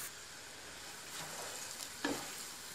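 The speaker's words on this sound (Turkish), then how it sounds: "Pirincimizi döküp pirinçle biraz soğanı kavuracağım." Rice and onion sautéing together in a pan as filling for cabbage rolls: a soft, steady sizzle with a brief stir near the end, quiet and close, with no voices.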